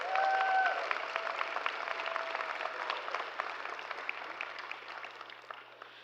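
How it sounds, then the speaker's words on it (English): Applause from a graduation crowd at a 2022 high school commencement ceremony, a steady dense clatter of many hands clapping that fades slightly over several seconds, with no talk. "Let's dedicate a round of applause to those that helped us throughout our journey."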